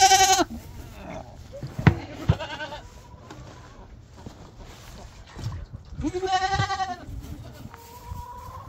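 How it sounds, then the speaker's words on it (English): Goats bleat loudly several times in bursts, a nasal wavering cry at the start and again near the end, with quieter farmyard noise and a short thump between. "Yeah, the goats have been doing good."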